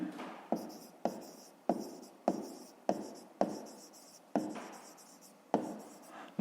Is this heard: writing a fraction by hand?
yes